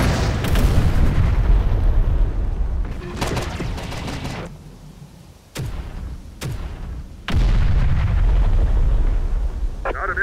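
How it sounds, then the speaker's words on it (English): Artillery and gunfire in the video game Terminator Dark Fate Defiance: loud, dense rumbling bursts and sharp booms, with sudden cracks mid-clip and a heavy barrage returning, sustained battlefield noise throughout. "Damn, we're taking fire!"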